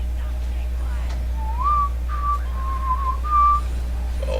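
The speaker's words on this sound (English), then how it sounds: "Oh, sorry for the whistling." A person whistles a short, wavering tune in a few sliding notes during League of Legends game commentary, faint and close over a steady low hum.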